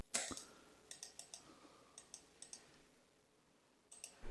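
Computer mouse clicks, about a dozen light, sharp clicks in an uneven sequence, close and quiet against a soft room hiss with no talk.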